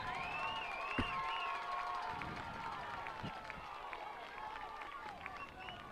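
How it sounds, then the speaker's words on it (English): A football crowd at the NMCC vs. Kennett game keeps up a steady, loud roar of mixed voices and cheering throughout, with occasional sharper shouts and thumps rising above the din. "This crowd's really started getting fired up"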